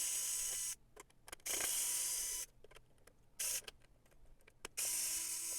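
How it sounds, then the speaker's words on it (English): An electric screwdriver whirs in short bursts while backing screws out of the bottom of a doTERRA Lotus essential oil diffuser, with close, loud buzzing runs separated by quiet pauses and small clicks. "I'm going to use an electric screwdriver for those."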